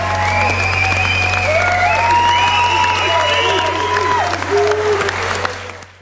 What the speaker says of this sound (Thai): ปรบมือให้กับนักชกทั้งสองด้วยครับ